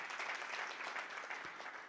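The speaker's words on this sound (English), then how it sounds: "let's give him a wonderful round of applause." Applause from a summit audience for an honoured guest, a dense and even wash of clapping that holds steady throughout before easing slightly at the very end.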